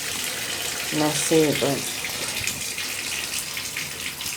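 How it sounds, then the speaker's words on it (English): Hot water runs from an old bathtub tap, a steady broadband rush of flowing water throughout, with a person speaking briefly over it near the start. "Voila. Hot water."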